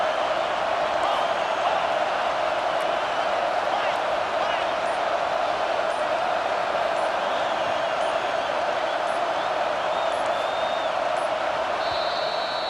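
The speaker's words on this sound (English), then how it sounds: "And here comes the noise. This crowd is trying to inspire this defense to make a big red zone stop." Stadium crowd noise in College Football 25 builds to a steady, loud roar as fans urge the defense toward a red zone stop, a dense wall of sound with faint cheers and whoops throughout.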